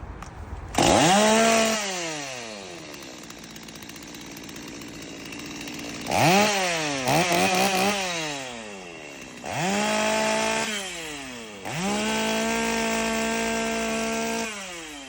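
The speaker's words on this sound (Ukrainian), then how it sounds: "Пилка фольксформа G255." Holzfforma G255 petrol chainsaw running and cutting oak, with several loud revs that rise and hold at high pitch as the chain bites through wood, then drop back to idle between cuts, close and without talk.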